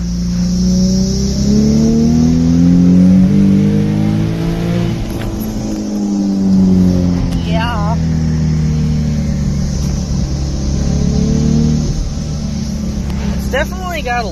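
A Nissan 350Z with added power revs up and down while driving. The engine note is loud and close, rising and falling in long sweeps with some brief higher whines, and people talk under it.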